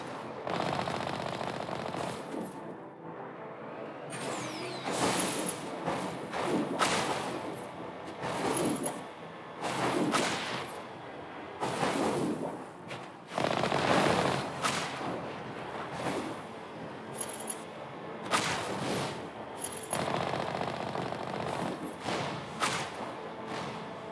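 Turrets fire in the sci-fi game Mass Effect Legendary Edition, letting off rapid bursts of sharp, loud gunfire in uneven volleys with whooshing shots and thuds between them across a sustained firefight.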